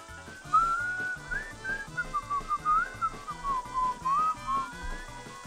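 A person whistles a lilting melody in long and short phrases over a soft repeating background beat from the Super Mario 64 game.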